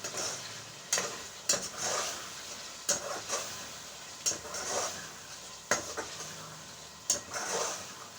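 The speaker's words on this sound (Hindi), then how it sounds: "ये देखें इसकी भुनाई करूँगी" Potato bhujia roasting in a pan with cumin, stirred at close range: periodic spoon scrapes and knocks against the pan over a low continuous sizzle, no speech.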